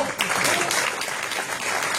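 Applause from the audience at a Dunkirk municipal election list presentation, a dense, steady wash of clapping that fills the whole stretch, with some voices mixed in.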